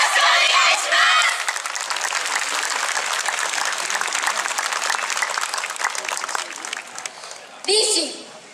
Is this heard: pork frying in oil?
no